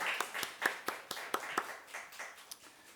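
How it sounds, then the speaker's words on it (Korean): Clapping from a church congregation during a Sunday worship service, a few dozen distinct claps landing in an uneven rhythm, moderately near and fairly soft. "우리 다시 한번 축복하며 박수하도록 하겠습니다"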